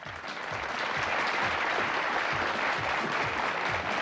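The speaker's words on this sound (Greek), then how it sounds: "Παρακαλώ, χειροκροτήστε τον κύριο" A studio audience on a 1995 Greek TV game show applauds the next contestant, a steady wash of many hands clapping together for several seconds.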